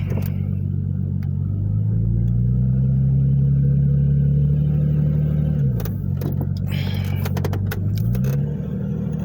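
A 4x4 off-road vehicle's engine labours up a loose hill in Cochise County, a loud close drone that rises and holds, dips as it downshifts, then climbs again amid rattles and clunks.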